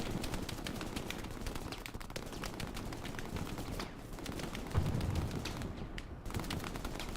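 Machine gun fire in the console World War II shooter Hell Let Loose during a competitive match on the Carentan map: continuous rapid bursts of automatic fire, dense and steady throughout, with a brief lull partway.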